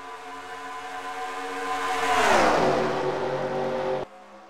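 Race cars in a Daytona racing video game roar off the start, engine notes climbing and sweeping past in a loud surge before the sound cuts off abruptly, leaving a quieter hum.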